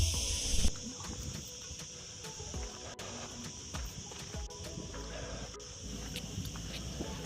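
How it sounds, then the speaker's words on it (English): Dense, continuous shrill buzzing of cicadas in summer heat near a Mediterranean beach area, loud and steady throughout with a few soft thumps and clicks in the foreground, no talking. "the insects in the background are actually cicadas,"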